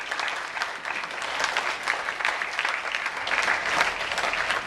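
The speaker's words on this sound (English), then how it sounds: "let me applaud you" Steady applause from a school audience after a dancers' performance, with many hands clapping continuously at a moderate, even level throughout, without any voices.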